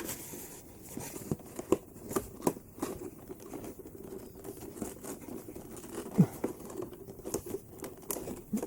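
Plastic and cardboard packaging around a Super7 Ultimates Thundercats Jackleman action figure crinkles and crackles up close, with irregular rustling, tearing and scraping bursts as it is worked open.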